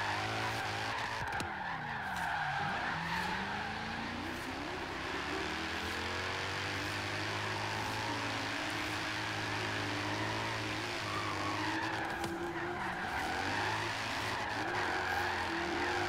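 A V8 car drifting in Forza Horizon 3 holds a steady, droning engine roar under long, wavering tyre skids that rise and fall for the whole stretch, with no talking.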